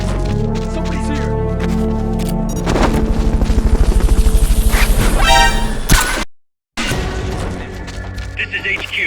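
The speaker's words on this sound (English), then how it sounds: "This is HQ. Fulton recovery helicopter." Fulton recovery helicopter in Metal Gear Solid: Peace Walker, a loud steady rotor chop that pulses rhythmically through most of the scene, mixed with game gunfire and effects, with a brief cut to silence near the end.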